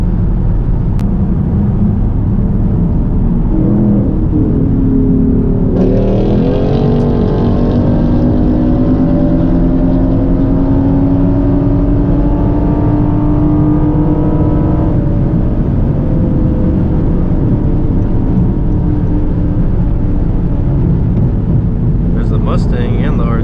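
A Honda Accord, ninth generation, running on E85, revs and accelerates hard in a pull, a loud, steady engine roar with rising and shifting pitch lasting throughout, with wind and road noise mixed in.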